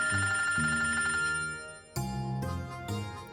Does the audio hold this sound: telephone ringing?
yes